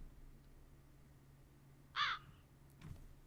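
A single crow caw sample plays once, clear and brief against a quiet background, followed by a faint softer trailing sound, in a Strudel live-coding music session.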